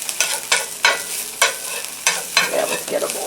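Garlic frying in a pan and being stirred with a utensil for spaghetti sauce, a steady close sizzle broken by regular scraping strokes about every half second, no talking.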